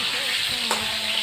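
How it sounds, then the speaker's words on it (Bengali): Potatoes and pointed gourd frying in oil with white cumin, a close, continuous sizzling hiss with a faint stir partway through, heard alone without talking. "আলু আর কাঁকরোল একসাথে লাল করে ভেজে নেব"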